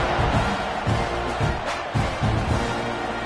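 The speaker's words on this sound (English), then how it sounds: "You think this crowd's going to get loud when their defense comes on the field?" Football stadium crowd at a college game, a steady broad roar with rhythmic swelling chants rising and falling, loud and continuous with no clear talk over it.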